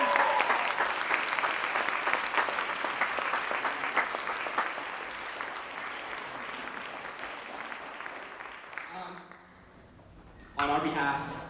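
An audience gives a full, sustained round of applause at a high school French horn senior recital. The clapping stays dense and loud for about nine seconds, then thins out and dies away, with a brief burst of sound near the end.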